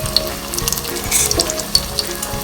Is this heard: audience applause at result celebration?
no